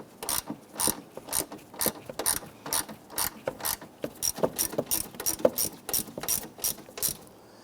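A hand ratchet snugs down the front lower bolt of a 2011-2021 Jeep Grand Cherokee windshield washer reservoir, giving a steady run of close, rhythmic ratcheting clicks in regular strokes.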